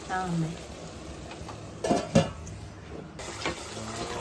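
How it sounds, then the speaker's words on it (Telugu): Prawns fry in a pan, giving a soft crackling sizzle broken by a few clanks and stirring scrapes, while a voice speaks faintly over it. "నా బిడ్డ ఇక్కడ ఫ్రై చేస్తుంది ప్రాన్స్ ఫ్రై చేస్తుంది"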